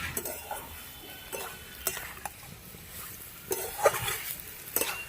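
Cauliflower stems for chorchori are stirred in a pan, with soft scraping and occasional spoon taps against the metal, repeating in a slow, irregular rhythm at close range.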